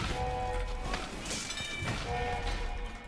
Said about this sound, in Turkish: Bizim tren, tren skili. Tren gelir hoş gelir skili.